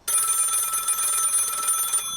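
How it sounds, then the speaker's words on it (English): A telephone bell rings continuously for about two seconds in a radio drama, a bright metallic trill that is close and steady and then stops abruptly. "Answer that phone, George."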